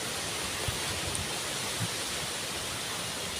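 Strong wind roars steadily as a dense, broadband rush close to the microphone, with a few faint thumps underneath.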